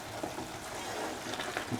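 A paneer and ground cashew stew cooks in a pan with a faint, steady low sizzle and gentle bubbling, quiet and close, with no voices.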